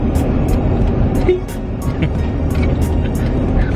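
Steady road rumble from inside a moving car on the way to brunch, a continuous low drone with faint ticks overhead and no clear voices.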